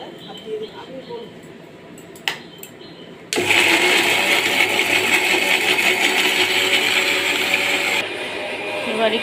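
An electric grinder whirs loudly through spices, starting abruptly after quieter kitchen sounds and running as a dense, steady high-pitched roar for several seconds before easing down, with speech nearby.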